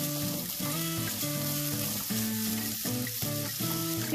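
Sago pearls are stirred in a sizzling pan, a steady close frying hiss under a layer of tonal background music, with soft scraping of the mixing spoon.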